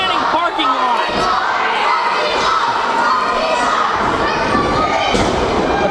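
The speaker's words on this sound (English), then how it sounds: "The crowd is still chanting parking lot." A wrestling crowd at a falls count anywhere match chants and shouts loudly and steadily, with scattered thumps from the ring beneath the roar of voices.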